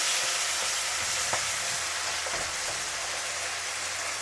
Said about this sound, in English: We fry it for about 30 seconds.